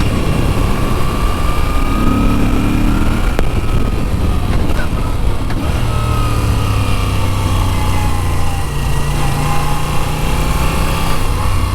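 Moto Guzzi V7 III Carbon motorcycle engine running steadily while riding, a continuous loud drone with shifting pitch as the bike accelerates, mixed with wind rush and no talking.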